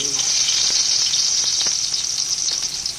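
Garlic and onions sautéing in a pan, a loud continuous hiss of hot oil with scattered pops and light stirring clicks, close up.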